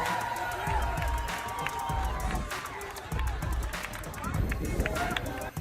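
A crowd cheers, claps and shouts as someone leaves, with dense babble, whoops and scattered claps blending into a continuous loud roar.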